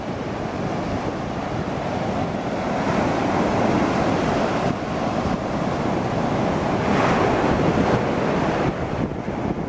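Steady roar of surf breaking on a beach, with continuous wash of waves and some wind buffeting the microphone.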